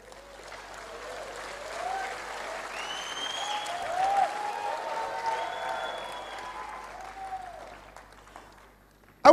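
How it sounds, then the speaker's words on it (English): An audience at an inspirational talk by Dr. Myles Munroe breaks into sustained applause, a loud wash of clapping that swells and lingers with some shouts mixed in, then fades toward the end. "Clap."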